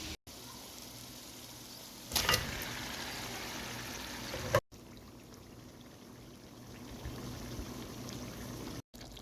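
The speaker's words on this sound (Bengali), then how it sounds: "এখন চিকেনগুলো কষানো মশলাতে ঢেলে দেবো" Chicken pieces tip into a hot pan of fried spice paste with a brief splashy rush, then a steady sizzle and hiss continues close by.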